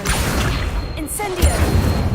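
A spell cast in the video game Hogwarts Legacy during practice on a training dummy: a burst of magical impact with a crash and a low thump, over steady game background sound.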